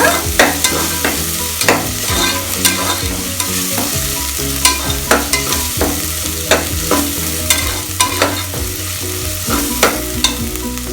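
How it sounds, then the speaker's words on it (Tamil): Vegetables for veg khurma sauté loudly in a pan with a constant close sizzle, punctuated by repeated rhythmic scrapes and knocks of a spoon stirring them. "ஒரு 2 நிமிஷம் வந்து நீங்கள் வதக்கிக்கோங்க."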